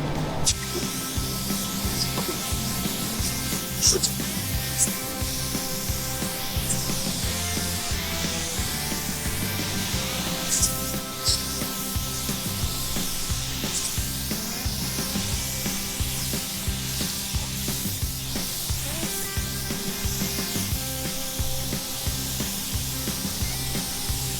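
The driver's side of a car is spray painted, producing a steady close spray hiss that runs on without pause over a regular pulsing mechanical backdrop.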